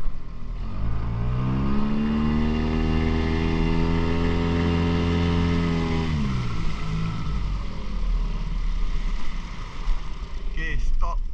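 A boat engine runs loud and steady on water with a rising harmonic hum, then cuts off around six seconds, leaving wind and water noise with some people talking.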